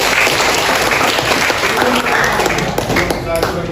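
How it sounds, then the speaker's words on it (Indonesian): A classroom group claps together in a dense, close burst of applause that carries steadily throughout, with faint voices underneath. "tepuk tangan untuk kita semua"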